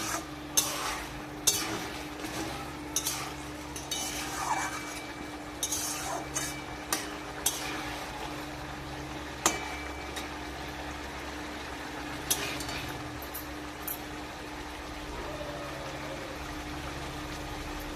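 Fried paneer balls are stirred into simmering gravy in a pot, with a spoon clinking and scraping against the metal at irregular intervals over a soft steady background.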